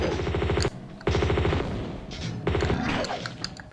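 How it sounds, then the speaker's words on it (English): M16 rifle fire in a video game: loud, close bursts of rapid automatic shots in several rounds, with short gaps between volleys and no talking. "I'm taking the M16 out. Walk backwards so that she can keep on shooting"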